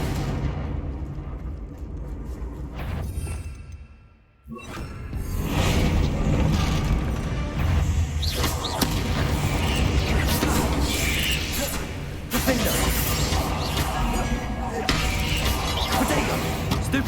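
Blasting fire spell from Hogwarts Legacy erupts into a loud, sustained explosive roar with booming, crackling bursts and game music, after a brief lull, with a voice calling out over it.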